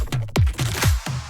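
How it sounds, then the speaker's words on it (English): Warpy, pitch-bending synth effects in an FL Studio electronic track sweep downward in repeated swoops alongside a heavy bass line, several loud bursts across a short, dense stretch with no voices. "I have all these effects and just these kind of warpy things that follow along with the bass line."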